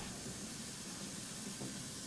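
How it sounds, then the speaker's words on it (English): A healing spray canister from Resident Evil 3 Remake releases a steady, broad hiss of pressurized mist that carries unbroken for about two seconds at low volume. "The Resident Evil healing spray"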